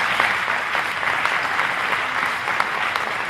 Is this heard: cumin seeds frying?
no